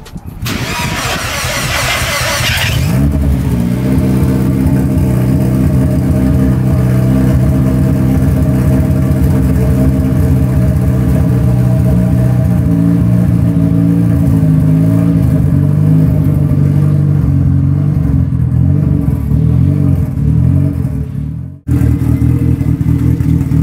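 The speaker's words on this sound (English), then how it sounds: "here we go, cold start." Mazda Miata engine cold start: a starter crank for about three seconds, then the engine catches and settles into a loud, steady, slightly elevated idle with faint rev variation, briefly dipping near the end.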